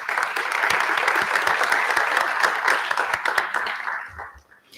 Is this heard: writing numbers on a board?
no